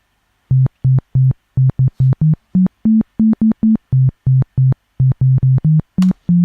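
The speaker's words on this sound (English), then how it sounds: "it's just got a real basic sine wave sound, which you can hear like so" A pure, smooth sine-wave synth bass tone plays a choppy grime bassline riff of short repeated notes with brief gaps, the pitch stepping up and down.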